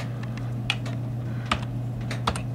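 Keystrokes on a computer keyboard entering a command in a Windows 7 command prompt, a few separate clicks and short bursts over a steady low hum, fairly close and moderately loud.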